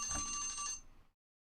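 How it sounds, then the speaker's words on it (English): A timer alarm goes off as a short burst of bright, ringing electronic chimes. It lasts about a second, then cuts to silence. "There goes the timer."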